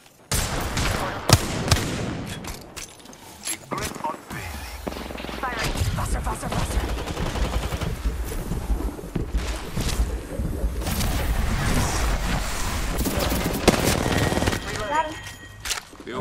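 Rapid video game shooter gunfire, with repeated bursts and bangs across the whole stretch, close and loud, mixed with game sound effects and voices talking over it.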